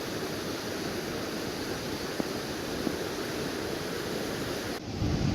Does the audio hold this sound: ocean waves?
yes